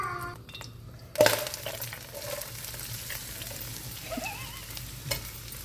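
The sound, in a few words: onions frying in oil in a pan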